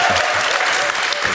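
A conference audience breaks into steady, dense clapping in a hall, loud and continuous for a brief moment.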